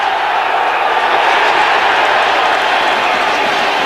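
A cricket crowd roaring after a six lands in the stands, a broad sustained wall of cheering and clapping that stays loud and even from start to finish, with no talk over it.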